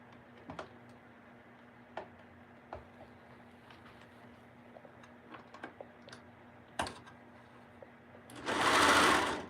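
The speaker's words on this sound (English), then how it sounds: "And then I continue sewing from the middle down." A sewing machine stitching pajama seams from the middle down, soft ticks and taps while the fabric is positioned, then a loud steady whir of fast sewing in the final second.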